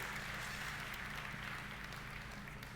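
Audience clapping at the NVIDIA Gamescom 2018 announcement event fills the hall as a steady, dense wash of applause, heard faintly and evenly throughout with no clear voices.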